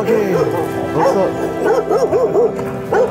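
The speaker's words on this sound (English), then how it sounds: "There's a stray dog right here." A stray dog on a street in Tanza, Cavite, in the Philippines gives a series of close, loud, quick yappy barks in uneven bursts.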